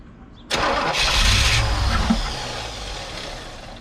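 A 1985 Chevrolet Corvette V8 that sat parked for 20 years cranks and catches roughly, running on only a few cylinders with a loud, uneven rumble that settles into a shaky idle.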